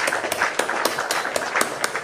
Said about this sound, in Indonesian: Oke, kasih tepuk tangan yang meriah.